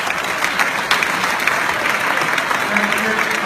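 Steady round of applause from diners at an air show reception dinner, dense and continuous clapping filling the room for a few seconds without pause.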